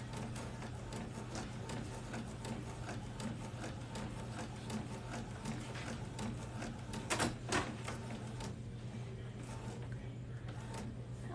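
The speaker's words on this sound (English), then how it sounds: "The printer is almost finished" A sublimation printer runs steadily with a low mechanical hum and soft rhythmic clicking and shuffling, joined by a couple of brief sharp clacks partway through, all faint and alone.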